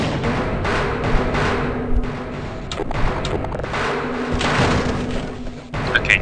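Grenade explosions in the Half-Life video game: a dense run of heavy booms and thuds rumbling close and loud through most of the stretch, with a brief lull near the end before another blast.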